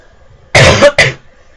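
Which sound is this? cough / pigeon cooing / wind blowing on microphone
cough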